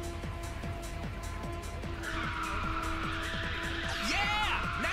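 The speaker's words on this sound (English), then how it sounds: "The Fiera does a good job at taking these drifts." Fiera race car drifting in Ridge Racer 6, a steady engine drone with repeated tire squeals sliding through a corner, then a sharper screeching skid near the end, with a voice briefly underneath.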